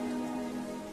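Rain plays in the background as a steady, even hiss of drops on a surface, with a faint tonal hum mixed in. It lasts about a second and there is no talk.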